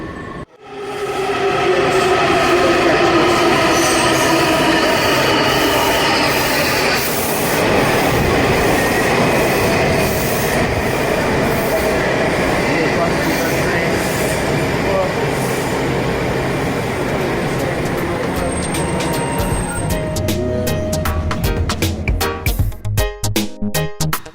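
A subway train roars into Gallery Place-Chinatown station, loud and sustained, with rumbling wheels, rhythmic clatter and metallic squeals as it slows near the end.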